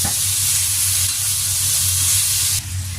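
Chicken pastel with fried carrots and potatoes cooks in a pan over lowered heat with no water added, giving a loud, steady, close sizzle and hiss that fills the whole stretch with no talking.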